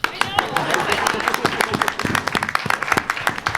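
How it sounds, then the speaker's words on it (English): Scattered, uneven clapping from a small audience at a cosplay costuming panel in Los Angeles, with sharp individual claps close by and a few others nearby, continuing steadily throughout. "We should applaud."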